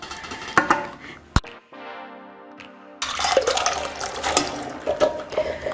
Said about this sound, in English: So we're going to drain our chickpeas first